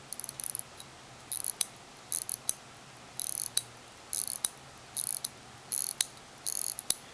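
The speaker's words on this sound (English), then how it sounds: "I'll wind it up real quick so you can hear it." A Vostok mechanical watch being wound by hand, giving short bursts of fine, quiet ratcheting clicks in a steady repeating rhythm, each turn followed by a brief pause.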